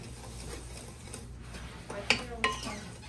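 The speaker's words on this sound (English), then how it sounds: "we're just going to kind of mix this together real quick" A peanut butter dessert mixture, with salt just added, being stirred in a bowl, giving soft scraping and swishing with a couple of sharper clinks of the utensil against the bowl, fairly quiet and close.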